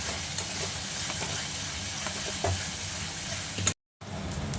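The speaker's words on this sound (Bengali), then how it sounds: "এই ধনে পাতাটা দিয়ে নাড়াবো একদম তেল বেরিয়ে আসবো" Lote fish and coriander leaves stirred while frying in oil in a pan, a steady close sizzle with soft scraping stir sounds throughout, briefly cut by a moment of silence near the end.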